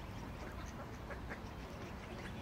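Ducks quack in a field recording, with scattered faint calls rising over a dense, steady outdoor noise bed.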